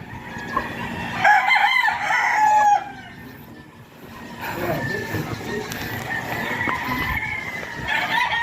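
Young stag roosters crowing at a gamefarm in San Pablo, Laguna, with several loud nearby crows overlapping, clucks and farm noise around them, and people talking in the background.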